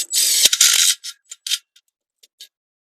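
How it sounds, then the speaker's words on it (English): Self-tapping screw driven into a metal ceiling grid, a loud close burst of high whirring and grinding that ends abruptly, then a few short scattered clicks and rattles fading to silence. "Now in this case, I'm just going to use a self-tapping screw."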